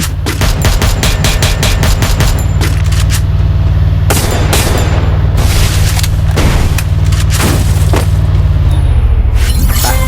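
Gunfire in a video game, starting with a rapid burst of loud automatic shots, then heavy scattered booms and blasts over a constant low rumble, loud and close.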